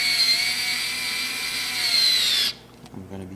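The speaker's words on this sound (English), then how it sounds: "So I'm first driving in the screws" A power drill drives screws in to mount a release handle, a steady loud whir for about two and a half seconds that then cuts off, followed by faint handling noise.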